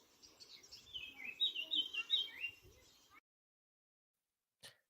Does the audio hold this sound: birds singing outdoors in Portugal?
yes